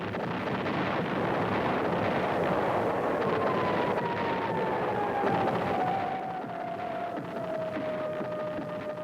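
B-52 carpet bombing rumbles as a sustained, heavy roar of distant explosions, a dense continuous boom that slowly eases, with a faint descending whine layered on top.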